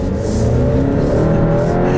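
A 2018 Alfa Romeo Stelvio SUV engine roars steadily close up, pulling hard under acceleration with a continuous loud drone and rising pitch.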